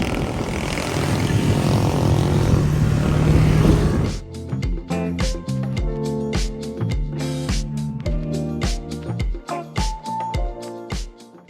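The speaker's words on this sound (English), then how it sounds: "Then we get a little tuk-tuk ride over to the palace." A tuk-tuk ride through Bangkok: a continuous close engine drone gives way to a choppy stretch of sharp bursts and pulses, with brief tonal hums over the motor.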